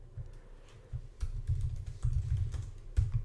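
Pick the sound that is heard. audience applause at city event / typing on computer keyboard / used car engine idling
typing on computer keyboard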